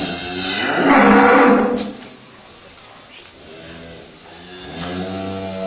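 Cows in a barn at a Bigorre farm, with a newborn calf among them, give a loud, drawn-out moo early on, followed by quieter lowing near the end.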